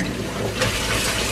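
Water runs steadily from a tap while peppers are rinsed in baking soda water and the water is changed several times, a close, continuous splashing and gushing rush with no talk.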